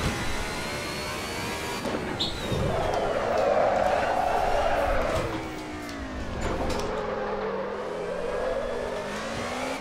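Mercedes 190E Evo II engine in Assetto Corsa on the Sachsenring, revving high and sustained, rising and falling through gears over ten seconds, loud and close, with someone talking underneath.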